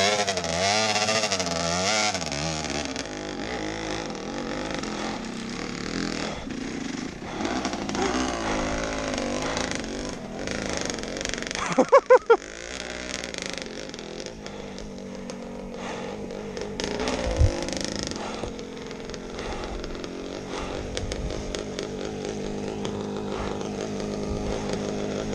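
Two motorcycle engines rev and idle nearby, with rising and falling engine pitch early on, a sharp clattering burst near the middle and a rough steady drone afterward.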